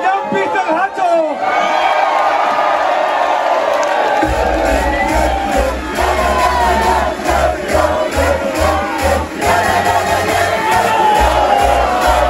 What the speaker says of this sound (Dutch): Mensen, een applaus voor Jan-Pieter Hartog.